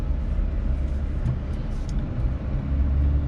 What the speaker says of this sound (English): we're gonna take the truck up the road real quick